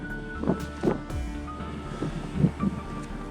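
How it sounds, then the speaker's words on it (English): Strong wind on the summit of Comanche Peak in Rocky Mountain National Park buffets the microphone in gusty, low rumbling bursts, with a steady roar and occasional flapping beneath it; no voices. "It's just really windy up here though."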